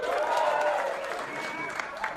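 A comedy club audience gives brief clapping mixed with laughter and crowd murmur, moderately loud and tapering off after a couple of seconds.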